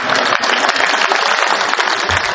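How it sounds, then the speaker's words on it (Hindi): A kavi sammelan crowd in Gurgaon gives loud, dense applause to welcome a poet. The clapping is steady and continuous with no voice over it. "मेरे स्वागत में दोबारा जोरदार तालियां बजाएं"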